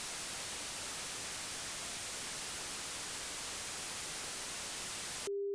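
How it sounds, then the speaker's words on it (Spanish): Steady white noise from a preset in a Max/MSP sequencer patch fills the whole stretch as an even, broadband hiss, then cuts off abruptly to a single sustained pure tone at the very end. "el primer preset vamos a poner que sea el ruido blanco"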